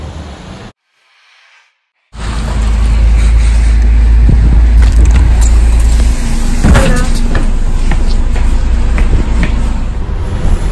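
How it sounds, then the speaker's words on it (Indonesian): A city bus rumbles steadily from inside the cabin with low engine drone and scattered clunks and rattles, loud and continuous after a brief near-silent gap, with faint background voices. "Jadi begini penampakannya, rakyat jelata naik bus"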